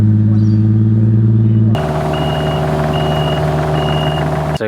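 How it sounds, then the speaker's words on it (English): The 80 driven back and forth over a home driveway being prepared for blue-metal topping: a loud, steady engine drone, then a series of evenly spaced reversing beeps cutting through it. "we're going to get the 80 and just drive back and forth a bit"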